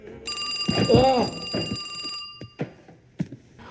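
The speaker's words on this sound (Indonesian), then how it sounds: "suara telepon yang berbunyi" A telephone bell rings in a film scene: a steady, bright electronic ring holds for about two seconds, then stops, with a voice-like sound under it and a few soft knocks afterward.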